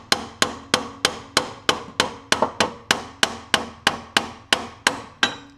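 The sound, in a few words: hammer hitting a car shock to separate it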